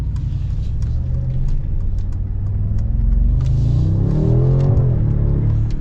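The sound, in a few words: Mercedes G63 twin-turbo V8 accelerating in Sport Plus mode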